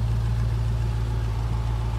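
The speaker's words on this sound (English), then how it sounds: "I bet it's in tour mode right now, so that's why it's not a deep rumble." A 2020 Chevrolet Corvette C8 Z51 idles with its exhaust in tour mode, giving a steady, even low hum with no deep rumble, close and constant for the whole stretch.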